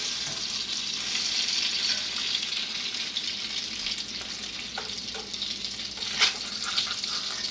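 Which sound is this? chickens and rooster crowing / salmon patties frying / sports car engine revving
salmon patties frying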